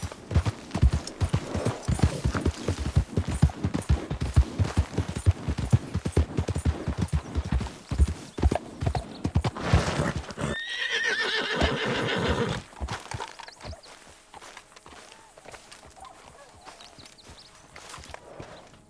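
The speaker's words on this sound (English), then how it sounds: "aquí tengo el pinche caballo" In Red Dead Redemption 2, a horse's hooves clip-clop in a quick rhythmic run, followed by a loud whinny, then quieter ambience with faint hoof movement, close and without talk.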